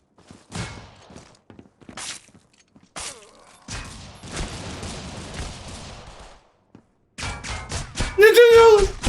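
Scattered gunshots ring out in a Counter-Strike style shooter, sharp bursts separated by quiet gaps, with a flurry of shots and game sounds toward the end while a voice speaks intermittently.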